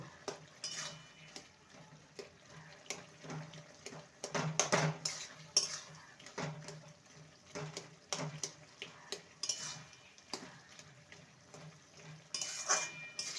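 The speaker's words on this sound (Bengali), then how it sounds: "এবার সবজিগুলোকে একটু ঘেটে দেব" Quiet, intermittent scraping and clinking as a spoon stirs spinach and mixed vegetables in a pan for a vegetarian ghonto, with soft sizzling between the stirs.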